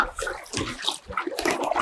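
Water sloshes and splashes around a small rowboat on a river heading into a cave south of Hanoi, a steady close wet churning with irregular splatters and no talk.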